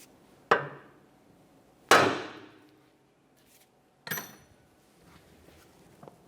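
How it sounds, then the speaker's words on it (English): A hammer strikes the steering knuckle of a 1994-1997 Honda Accord 2.2L to jar a ball joint free, three sharp metallic taps spaced a couple of seconds apart, each ringing briefly, followed by a faint clink. "we'll lightly tap on the knuckle itself, causing vibration to break it free"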